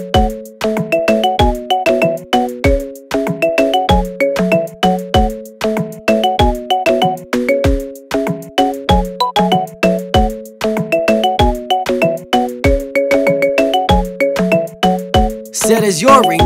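A marimba remix ringtone plays a bright, looping pattern of mallet notes over a steady thumping beat, loud and close, with no voices.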